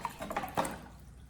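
Salted water is stirred in a basin in a kitchen, giving a brief, soft close-up swish and slosh with small splashy bursts before fading.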